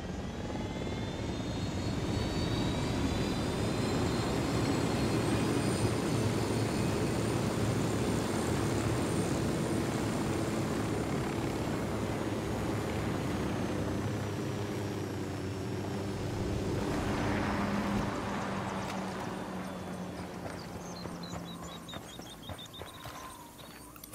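A helicopter in a video game, Ghost Recon Wildlands, drones steadily with a low rotor rumble and engine whine, fairly loud and continuous throughout, easing slightly toward the end.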